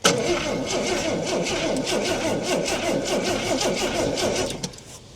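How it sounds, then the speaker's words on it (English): The starter on a 1968 Ford Falcon engine, parked since 1990, cranking loudly and rhythmically in quick repeated pulses for several seconds before stopping abruptly, with a faint voice nearby. "That was a starter engaging again."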